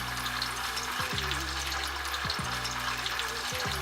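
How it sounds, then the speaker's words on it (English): Tofu shallow-fries in hot oil with a soft, continuous sizzling hiss, fairly faint, with a low electrical hum underneath. "We're going to shallow fry the tofu."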